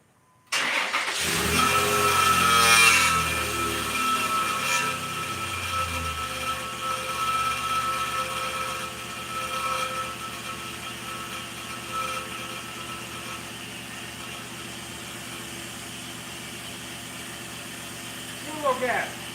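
A Dodge car engine cranks, catches and roars loudly for a couple of seconds, then settles into a steady, lumpy idle that runs on for a long stretch, with a brief rev near the end.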